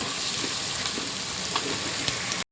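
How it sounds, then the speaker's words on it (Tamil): Onions sautéing in a pan for tomato rice, a steady close hiss of frying that runs the whole time and cuts off abruptly just before the end, with no voices. "வெங்காயம் நல்லா வதங்கிடுச்சு. இன்னும் கொஞ்சம் வதங்கட்டும்"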